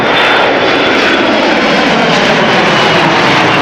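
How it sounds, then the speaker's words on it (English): KLM Embraer 175 jet at Schiphol, bound for Gdansk, produces a loud, close, continuous engine roar with a bright hissing whine, sustained without a break and no voices over it. "This Embraer 175 is going to go to Gdansk in Poland."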